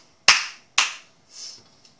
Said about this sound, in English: So first, you're going to clap twice.